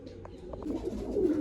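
Pigeons coo softly inside their coops, low murmuring calls repeating in short overlapping bursts at close range against a steady muffled background.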